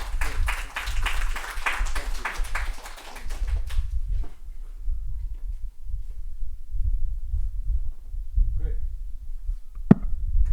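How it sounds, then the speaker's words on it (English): Audience applause at a forum dialogue: a few seconds of dense clapping that fades quickly into quiet room rumble, with a single sharp tap near the end. "let's also give a warm round of applause to Henry"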